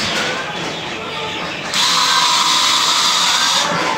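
Power drill boring a screw hole in wood during construction of a modern bahay kubo, a steady whirring whine that steps up louder and higher partway through, then holds before easing off.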